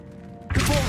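Accio pulling spell in the Hogwarts Legacy video game, a sudden loud whooshing burst that starts halfway through after a quiet tonal hum and holds bright and full to the end.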